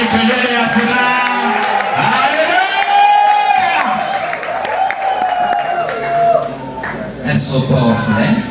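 Church congregation at a graduation service in Kitale, Kenya, raises a joyful roar of shouts, whoops and cheering, loud and sustained, with a strong voice calling out over the crowd.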